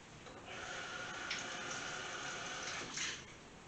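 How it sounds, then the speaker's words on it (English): Tap water runs steadily into a sink while a quarter-cup measuring cup is rinsed out, a continuous hiss that swells briefly twice as the stream hits the cup, with no talking. "I'm just going to rinse this out really quick"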